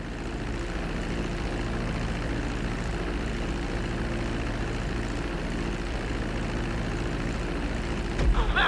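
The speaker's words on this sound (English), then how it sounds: "Now let's get the plane off the runway." Propeller airplane taxiing along a runway in GTA V, a steady droning engine hum held at constant loudness throughout, with a brief louder rumble near the end.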